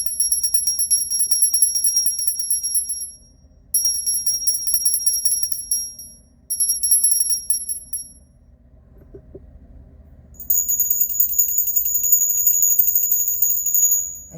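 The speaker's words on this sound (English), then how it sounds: "I'm going to ring some bells." Small bells ring for a tarot cleansing in bursts of high, bright, shimmering tones, three shaken runs with short gaps and then a longer sustained ringing, clear and close.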